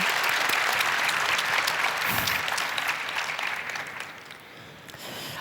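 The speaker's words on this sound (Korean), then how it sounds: "다시 한번 이분들의 용기에 존경을 표하는 의미에서 큰 박수를 보내고 싶습니다." An audience at a public forum on the right to respect gives dense, sustained applause, a loud wash of many hands that holds steady, then eases slightly toward the end, with no speech over it.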